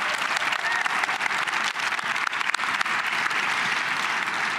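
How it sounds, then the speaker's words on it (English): Applause from a crowd at a sports legacy symposium, dense and even, sustained throughout at moderate loudness without a break. "Give them another round of applause."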